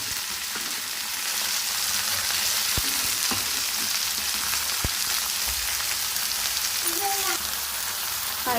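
Brinjal and tomato fry in a pan for a curry, giving a steady, even sizzle with a few stirring knocks against the pan and no talk.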